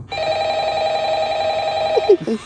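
A telephone rings in the horror video game Five Nights at Freddy's, a steady electronic ring tone holding for about two seconds before short clicks and a brief voice sound at the end.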